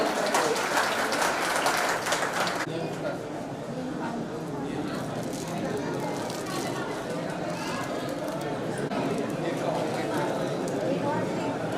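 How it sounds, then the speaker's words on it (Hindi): Audience applause welcoming guests at a college alumni meet, dense continuous clapping throughout, louder at the start, with voices mixed in. "तालियों से आप लोग स्वागत करें।"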